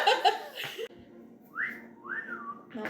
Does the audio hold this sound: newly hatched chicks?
no